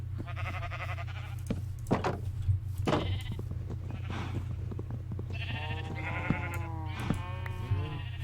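Minecraft sheep bleat repeatedly over a steady electronic hum, several wavering calls spread through the stretch, some overlapping, with clicks and small game sounds between.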